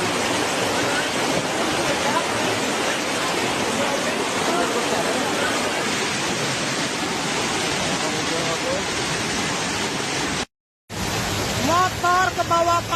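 Constant heavy roar of the flooded, fast-flowing Cisolok River in Sukabumi, West Java, for several seconds; after a brief cutout, the rushing continues with faint voices in the background.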